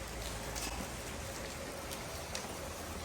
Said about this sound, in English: It's peacefully raining.